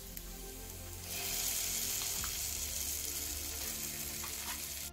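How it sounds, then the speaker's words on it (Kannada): Masala spices hit hot ghee for a Mangalore prawn ghee roast, setting off a loud, steady sizzle that swells after a quieter start, with a few faint utensil clicks. "ಈಗ ಮಸಾಲೆ ಹಾಕ್ತೇನೆ."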